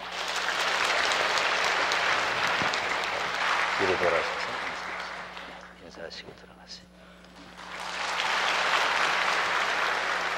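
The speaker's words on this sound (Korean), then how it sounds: "우리 한번 크게 박수해 주시기 바랍니다" Church congregation applauding loudly for a newborn baby, dense clapping that eases off in the middle while someone speaks briefly, then swells back up strongly at the end.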